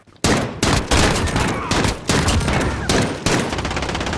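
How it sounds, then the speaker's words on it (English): Rapid bursts of minigun fire from a Call of Duty match come as loud, dense, continuous rattling volleys with brief gaps between them. "Did you hear that? Oh, it's a minigun."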